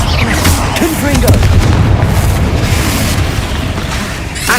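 A Confringo explosion spell blasts in Hogwarts Legacy, a loud booming burst over a dense, rumbling wash of game action noise that lingers for several seconds.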